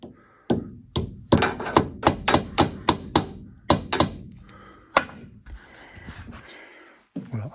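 Hammer taps drive a small wooden dowel into a solid beech helical staircase step, a quick run of about a dozen sharp, close knocks followed by a few slower, spaced blows.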